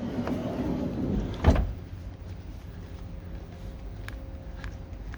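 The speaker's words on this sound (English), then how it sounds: "Close the door." A single solid door thud closes sharply in a Karmann Mobil Davis 590 campervan, followed by quiet room tone with a faint hum and a couple of soft clicks.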